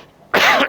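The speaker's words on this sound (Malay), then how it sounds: "Itu dah batuk tu" One sharp, loud cough bursts out after a brief quiet moment, harsh and close, followed by the start of a second.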